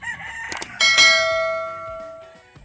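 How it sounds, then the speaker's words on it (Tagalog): Fighting roosters crowing, one loud, close cock-a-doodle-doo that stretches and fades out, after a few short clucks and knocks. "manok na panabong."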